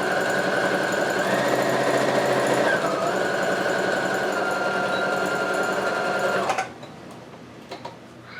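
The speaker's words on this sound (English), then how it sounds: "So I'm going to sew this now." A sewing machine runs in a loud, steady whir of rapid stitching, then abruptly stops, leaving a few faint clicks in near silence.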